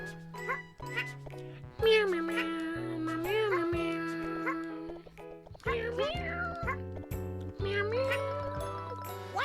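A person's voice imitating a squeaky cat meow, drawn-out high, wavering mews repeated several times over quiet background music.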